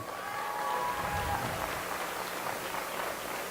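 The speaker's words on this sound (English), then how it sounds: "Clap that up, that's amazing" An audience at an eighth-grade awards ceremony gives sustained applause, a dense and even roar of many hands clapping together that carries steadily from start to finish.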